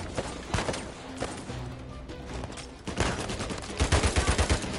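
Gunfire in the video game Uncharted 4, a loud, continuous string of shots and bursts, with a rapid run of sharp repeated cracks toward the end.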